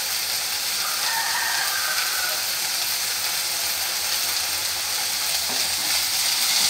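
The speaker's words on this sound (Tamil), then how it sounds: "நல்லா கொஞ்சம் பிறக்கி விடுங்க, இந்த கீரை கொஞ்சம் வதங்கட்டும்." Ragi kali cooking with drumstick leaves in a pan, stirred and sautéed so the leaves wilt, giving a steady close sizzle and scraping hiss throughout with no talk.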